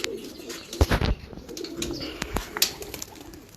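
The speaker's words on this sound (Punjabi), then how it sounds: "ਇਹ ਸਾਰੇ ਨਨਕਾਣਾ ਸਾਹਿਬ ਦੇ ਇਲਾਕੇ ਕਬੂਤਰ ਨੇ" Pigeons from the Nankana Sahib area coo softly at close range, low throaty calls mixed with a few sharp flutters and clicks against a quiet background.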